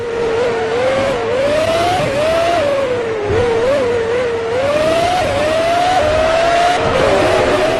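Formula One race cars at Monaco in the PS2 game Formula One 2003 give a loud, continuous high-pitched engine whine, shifting up and down through gears without a break.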